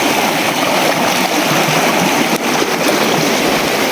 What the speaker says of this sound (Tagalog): Tinaw kayong tubig.